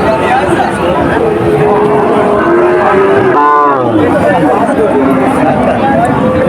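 A cow moos loudly amid a noisy crowd of people talking and calling at the Monirampur cattle market in Jessore district, the low bellow rising briefly over the chatter.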